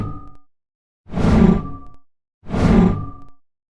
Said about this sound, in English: I found 4 sounds that could be a good fit for a powerful semi-magic attack.